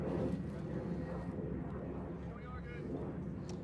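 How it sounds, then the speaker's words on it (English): A fixed-wing airplane passes overhead during a World Series youth baseball game between the SGV Panthers and BCS Outlaws, a steady low droning rumble filling the whole stretch with faint wind noise over it. "Have another delay for a plane going overhead."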